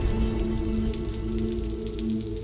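Steady rain patters on a surface, a dense, even hiss that continues throughout beneath a low background hum.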